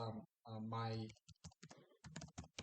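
Someone types on a computer keyboard while signing into VS Code, with quick irregular key clicks following a stretch of talk.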